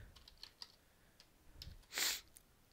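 Keys are tapped on a computer keyboard while writing script dialogue, giving a sparse, faint run of light clicks with one louder burst near the end, with no voices.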